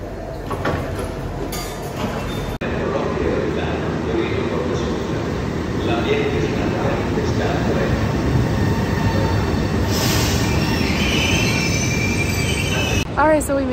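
A train pulls into a station in Italy, its wheels squealing loudly and continuously against the rails over a rumbling rolling roar, with a sharp click early and voices in the background.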